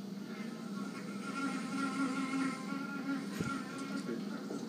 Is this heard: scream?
no